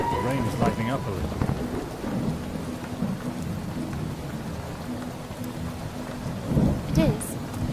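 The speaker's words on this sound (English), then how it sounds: "Finally, the rain is lightening up a little." Steady rain pours down while deep thunder rumbles continuously underneath, a dense, close wash of sound.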